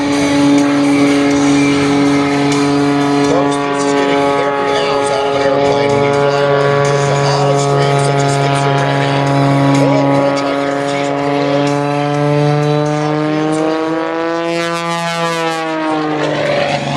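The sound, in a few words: Prometheus biplane performing extreme aerobatics at airshow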